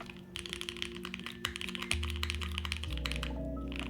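Fast, continuous typing on a mechanical keyboard fitted with marshmallow switches, a soft, full-sounding clack of dense keystrokes close by with a low hum in the background.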